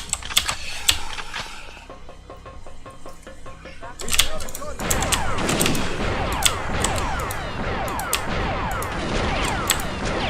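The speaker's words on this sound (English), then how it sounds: "I also like the firing sound for the explosive shells, I think it's pretty cool" Explosive-shell weapon firing in Perfect Dark, in Area 51: a run of crisp, rapid firing clicks and bursts giving way to dense, swirling, crackling blasts that fill the back half, with a voice talking over it.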